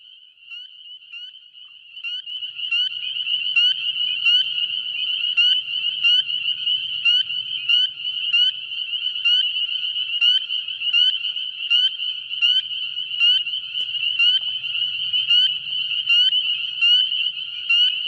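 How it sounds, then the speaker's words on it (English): A spring peeper frog calls at close range, its piercing high whistle repeating in a rapid, steady pulse that sounds almost continuous, with faint low rustling beneath and no talking. "This is a peeper."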